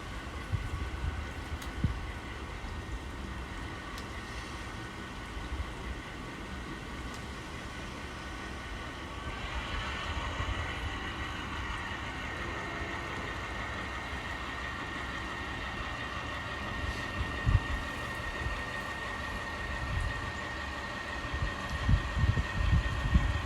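An N scale model train runs on a home layout, making a low, steady rolling rumble with faint rail clicks and occasional soft knocks, continuous and fairly quiet throughout.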